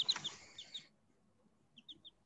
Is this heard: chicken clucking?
yes